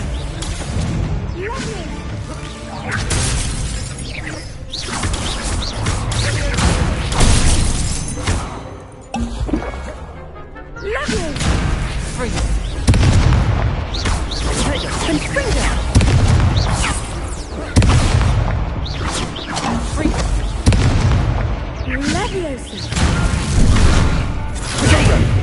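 Confringo fire-blast spell explosions in Hogwarts Legacy combat, repeated loud booming blasts and crashes throughout a busy fight, mixed with other spell effects and occasional speech.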